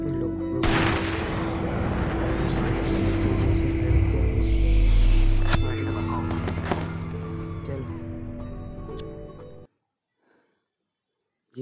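A sniper rifle shot fires in the Sniper 3D mobile game, a sharp crack over busy in-game ambience and effects, followed by a sudden cutoff into near silence.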